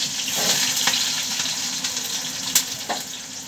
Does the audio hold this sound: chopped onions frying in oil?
yes